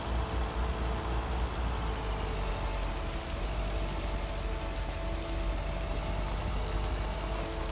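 Steady rain falls throughout, a constant dense hiss of drops on surfaces with no break in intensity.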